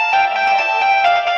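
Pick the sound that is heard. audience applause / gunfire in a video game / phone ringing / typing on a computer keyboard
phone ringing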